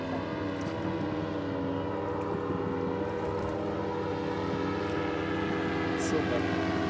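Motorboat or jet ski engines drone steadily across clear coastal water in Albania near Ksamil, a continuous mid-distance hum lasting throughout with faint speech mixed in.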